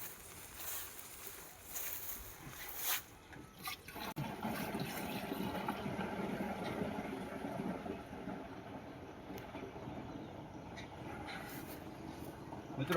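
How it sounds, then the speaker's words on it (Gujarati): Jaggery water pours into a pesticide mixture outdoors, a continuous sloshing liquid stream that starts after a few seconds and runs steadily to the end, close and moderately loud, with faint background noise. "ગરવાળું પાણી આપણે દવામાં નાખી દઈએ."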